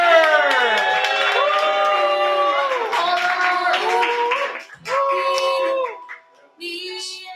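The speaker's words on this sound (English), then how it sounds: "Let's give it up for Connor, y'all." An open mic night audience breaks into clapping with loud, pitched whoops and cheers, which stay dense for several seconds and then thin out into scattered shouts near the end.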